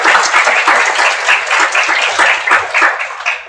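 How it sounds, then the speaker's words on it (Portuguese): An audience at a law conference in a Brazilian courthouse setting claps for the court's vice-president, a dense, steady burst of applause, loud and close, holding for several seconds before easing slightly. "eu preciso pedir uma salva de palmas"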